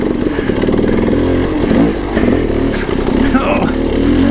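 Dirt bike engine on a hard enduro course in a desert canyon, revving loud and close through a wheelie, rising and falling in pitch with a steady mechanical clatter.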